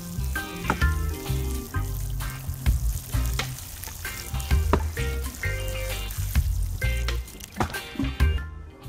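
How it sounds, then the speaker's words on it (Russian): Water is poured into the planting hole for a peach tree set out in autumn, bubbling, fizzing and gurgling up close in irregular bursts as it soaks into the loose soil. "Теперь лунку нужно полить."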